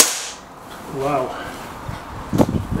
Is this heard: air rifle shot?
yes